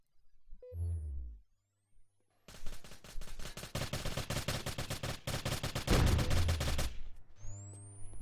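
Rapid bursts of automatic gunfire during a competitive video game tournament match, loud and sustained for several seconds, with quieter game effects before and after.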